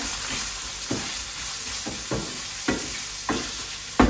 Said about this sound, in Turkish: Şimdi bunu böyle kavuracağım